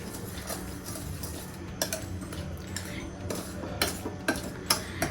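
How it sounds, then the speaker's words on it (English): A whisk works through chocolate lava cake batter in a bowl, with light clinks and taps against the bowl rising over a quiet background, some strokes sharper and louder than others. "If you do it in the whisk, it will mix everything evenly."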